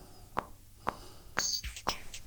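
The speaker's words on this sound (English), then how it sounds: "I have the click track going out one side" Metronome click track played from a backing track file on a Mooer GL200: four sharp, evenly spaced clicks about half a second apart, fairly quiet, with a faint tonal sound entering near the end.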